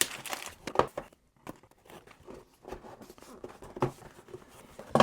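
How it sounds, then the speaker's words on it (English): Plastic wrapping is torn and peeled off the box of a Neewer motorized slider, giving close, irregular crinkling and ripping bursts with brief pauses between, no voices. "So let's just take this plastic off."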